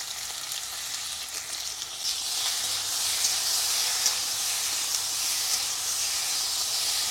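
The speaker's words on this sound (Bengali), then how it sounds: "কলাটা হালকা করে একটু ভেজে নেব" Green plantain slices fry in a pan with a steady, close sizzling hiss that holds evenly throughout, with no voices over it.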